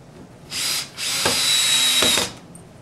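A power drill drives a screw into MDF in two close, loud whirring bursts, a short pull followed by a longer steady run, with the motor note rising slightly before stopping.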